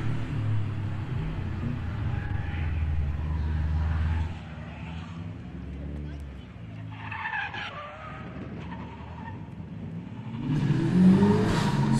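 A Subaru WRX STI tears through a club gymkhana course, its engine roaring loud and steady before dropping off during skids and slides, then surging close again at the end.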